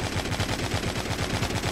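Steady, continuous automatic gunfire from the zombie video game The Walking Zombie II, dense repeated shots filling the whole stretch at loud, even level with no talking.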